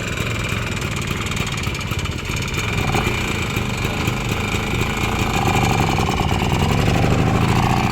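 A well-maintained vintage motorbike engine runs steadily at a vintage car fiesta, a loud close rumble that swells slightly toward the end, with no talk over it.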